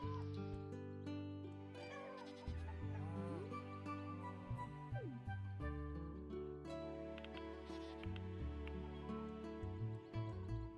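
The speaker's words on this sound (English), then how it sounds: "I could buy some more cows today, couldn't I?" Cows mooing in the farming video game Echoes of the Plum Grove, several drawn-out calls over steady background game music.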